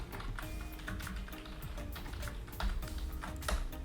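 Rapid keystrokes on a computer keyboard, typing a search prompt into a Microsoft Access form, clattering in an uneven, steady stream of close, crisp clicks with a few louder taps.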